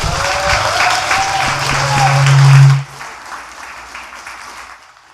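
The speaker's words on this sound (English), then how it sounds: "have a final round of applause for Anu Lakhan and Alycia Pirmohamed" An audience at a poetry reading applauds the two poets, a dense burst of clapping that swells and then cuts off sharply, leaving a quiet room.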